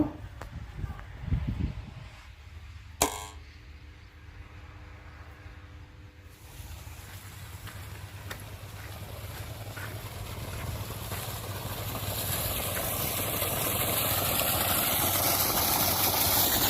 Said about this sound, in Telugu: ఇప్పుడు మోటార్ ఆన్ చేసి చూద్దాం నీళ్ళు ఎంత మటుకు వస్తాయో.